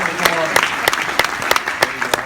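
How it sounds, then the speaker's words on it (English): An audience applauds after a presentation at a talk event, producing moderately loud, sustained clapping with sharp individual claps standing out through the short burst. "let's give everybody a round of applause"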